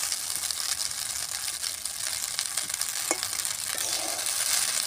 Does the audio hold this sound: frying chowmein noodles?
yes